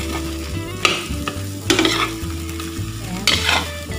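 An okra omelette fries in a pan with a steady sizzle, broken by a few sharp stirring or scraping clatters, close and alone without talk.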